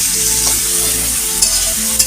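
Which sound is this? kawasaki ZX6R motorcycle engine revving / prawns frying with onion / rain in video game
prawns frying with onion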